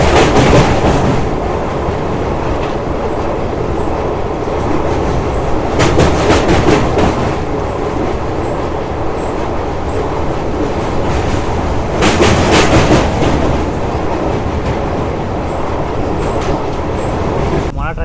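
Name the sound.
Simhadri Express train running, clickety-clack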